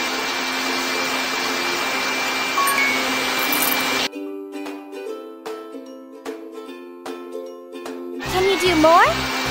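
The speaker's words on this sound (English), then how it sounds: "Let's vacuum the floor!" A toy-like vacuum cleaner whirs in a kids' baby care video game as a floor is cleaned, a steady electronic hum that cuts off abruptly, followed by chiming game tones and a rising synthetic sweep.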